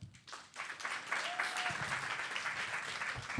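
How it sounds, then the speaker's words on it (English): Audience applause at a city panel event in Austin, a steady wash of many hands clapping that swells after half a second and holds at moderate loudness, with a faint voice at the start. "Round of applause for Bella."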